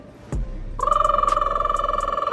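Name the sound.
phone ringing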